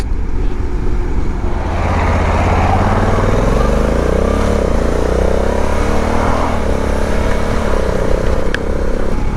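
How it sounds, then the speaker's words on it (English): A Honda Africa Twin motorcycle being ridden, its engine droning loud and steady with rising and falling pitch as it accelerates and shifts, and wind noise rushing throughout. "The Africa Twin, folks. What a bike."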